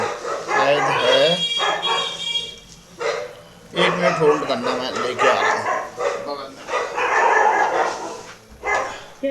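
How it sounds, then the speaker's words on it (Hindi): A dog barks and yips several times close by, in short repeated bursts mixed with whimpers, while someone talks over it in Hindi. "जैसे सर की वो कुत्ता भूख रहा है।"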